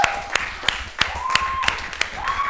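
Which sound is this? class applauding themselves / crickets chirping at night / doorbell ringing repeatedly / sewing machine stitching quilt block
class applauding themselves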